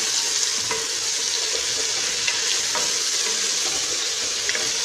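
Onion frying in oil and butter, a steady dense sizzle that holds at an even level throughout, close and alone with no voices.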